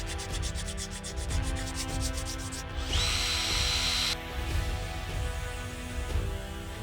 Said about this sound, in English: all that I have to do now is sand off all the supports